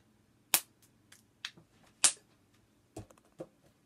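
A battery-powered toy gun fires a handful of sharp, snappy pops at irregular intervals. The two loudest shots stand out crisply against an otherwise quiet background.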